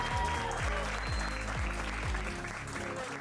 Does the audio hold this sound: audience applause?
yes